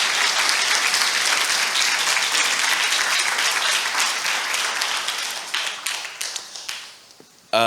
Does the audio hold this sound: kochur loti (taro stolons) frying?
no